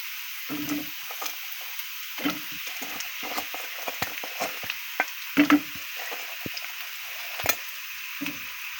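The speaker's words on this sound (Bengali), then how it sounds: "পেঁয়াজটা এরকম হয়েছে আমি এতে দিয়ে দিব মাছগুলো" Koi fish frying with onions in a pan, a soft steady sizzle under repeated scraping and tapping of a spatula against the pan in irregular bursts, close and fairly quiet, with no talking.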